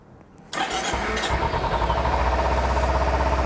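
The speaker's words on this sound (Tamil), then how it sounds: "உங்களுக்கு நான் இன்ஜினை ஸ்டார்ட் பண்ணி காட்டுறேன்." A motorcycle engine cranks and catches after a quiet moment, then settles into a steady, fairly close idle with an even pulsing rhythm.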